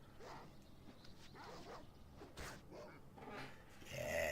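Wild dogs in the Baldur's Gate video game bark and growl in short, repeated yips and snarls amid battle noise, faint and distant in the mix.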